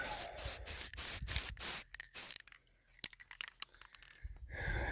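Blue spray paint sprayed onto PVC irrigation pipes and fittings, bursts of aerosol hissing in short pulses, then quieter rattling and handling before a final hiss, close up.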